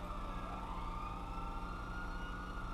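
An ambulance siren wails steadily in a roleplay video game, a sustained tone heard close and loud over a low engine rumble, with no talk.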